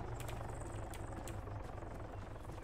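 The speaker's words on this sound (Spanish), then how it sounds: "Sí, es un helicóptero que va para allá" A helicopter in the video game ArmA 3 flying close by, its steady rotor thump and engine drone filling the short stretch at constant loudness.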